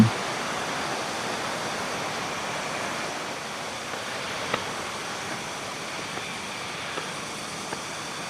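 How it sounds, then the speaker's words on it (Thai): Steady broadband rush of the Tad Kuang Si waterfall near Luang Prabang, Laos, continuous and fairly loud, with a few faint clicks or drips now and then. "เราจะได้ยินเสียงน้ำตกไหลตลอดทางทำให้รู้สึกสดชื่น"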